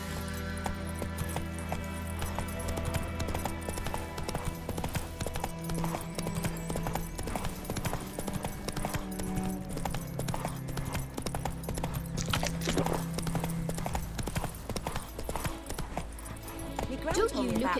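Hoofbeats of Geralt's horse in The Witcher 3 clatter steadily and close throughout, layered over game music and ambience, with a voice speaking at points.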